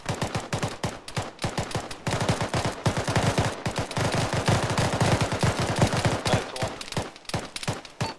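Gunfire in a military video game, rapid automatic bursts crackling in a dense rhythmic stream, with near sharp shots standing over sustained firing and brief pauses between volleys.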